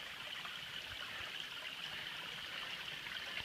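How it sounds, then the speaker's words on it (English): Steady rushing of flowing stream water at a water source on the Vermont Long Trail, a constant close hiss and burble with no voices. "this is flowing water"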